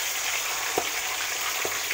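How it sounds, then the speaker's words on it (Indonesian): Steady, loud sizzling of chicken pieces frying in hot oil, with a couple of soft clinks or stirs breaking through the constant crackle. "Kita cemplungin ayam gorengnya"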